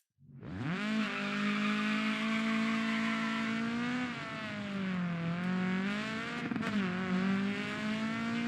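Rally car pulling away on snow in the DIRT 4 racing game, the engine rising from a low idle to a sustained high rev with wavering pitch as the wheels spin and grip, loud and close.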